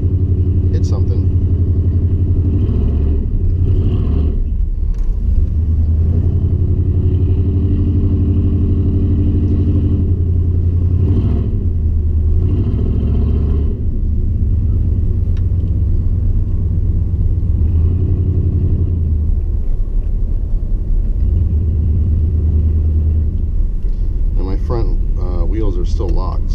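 A two-wheel-drive pickup with locked front hubs rolls through snow, its engine a steady low rumble and drone that swells and eases, while someone talks over it on and off.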